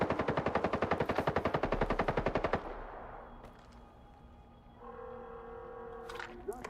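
Enemy automatic gunfire in S.T.A.L.K.E.R. 2: a rapid, loud machine-gun burst of closely spaced shots lasting a few seconds, then a fading rumble and quieter tonal ambience.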